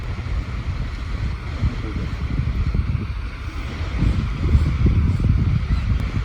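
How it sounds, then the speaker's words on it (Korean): Sea at Jebudo, with a steady low rumble of waves and surf mixed with gusty wind buffeting the microphone, rising slightly toward the end, continuous and fairly loud. "드디어 바닷소리가 들려."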